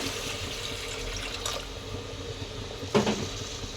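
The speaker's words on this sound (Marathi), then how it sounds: "आणि यात आता मी हे गरम हे पाणी ओतते." Hot water is poured into a cooking pot while making shevlachi bhaji, a soft steady trickling wash under a low background hum, ending in a brief louder splash near the end.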